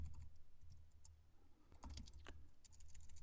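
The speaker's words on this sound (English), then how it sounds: "So I'll enable it again by typing CDP enable." Someone types a command on a computer keyboard in a network configuration demo, a quiet irregular patter of key clicks with small pauses, close and soft.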